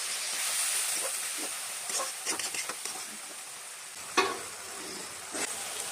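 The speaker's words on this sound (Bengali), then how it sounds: "তো ফোড়নে দিয়ে দিচ্ছি গোটা জিরা আর তেজপাতা" Whole cumin seeds and bay leaves sizzle in hot oil, a steady close hiss broken by scattered sharp crackles and pops, with no voices.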